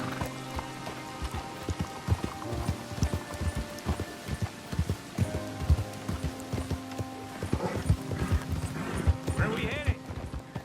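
Horse hooves clip-clop steadily at an easy walking pace on hard ground, close by, while voices talk over the hoofbeats.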